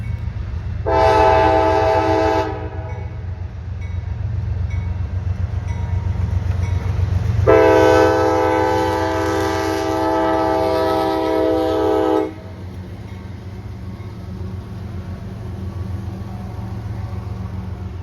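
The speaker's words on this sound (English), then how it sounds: "It was an auto rack train, if you were wondering." A freight train hauling auto rack cars rolls past with a steady rumble, its horn sounding two loud blasts, a short one early and a longer one midway, over continuous rail noise.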